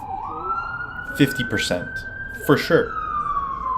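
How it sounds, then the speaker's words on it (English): An emergency siren wails outside, a steady rising and falling tone that builds and lingers at moderate distance while someone talks over it. "I'm gonna wait for this damn siren to go off"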